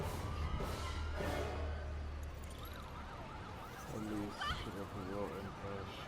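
A video game ambulance siren rises and falls faintly amid engine rumble, with a voice talking over it.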